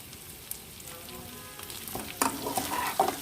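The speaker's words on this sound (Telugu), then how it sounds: "చూసారా ఎంత బాగా వేగిందో ఈ చికెన్ ఫ్రై అనేది." Chicken fries in oil in an iron kadai, a steady, soft sizzle that builds louder toward the end with a few scraping stirs of the pan, and no talking.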